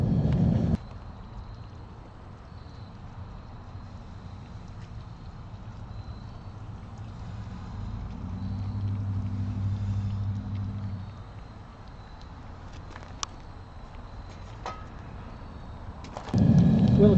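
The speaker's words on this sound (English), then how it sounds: "I'm going to shut the fire off and add the material and kick her back on." A propane-fired smelting furnace burner for melting galena to lead roars, shuts off with a low rumble underneath, then relights with a loud broadband whoosh at the very end.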